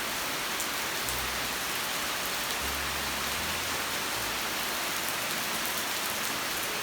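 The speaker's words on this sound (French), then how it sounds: "ce qui se passe c'est qu'il commence à pleuvoir" Steady rain falls on surfaces all around in Bali, a constant hiss with scattered drops and a few low thumps, no voices.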